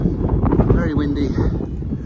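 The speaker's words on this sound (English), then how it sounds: "Very windy" Strong wind roars across the microphone in a steady low rumble on an exposed hilltop along the Cotswold Way, with a voice faintly present beneath the buffeting.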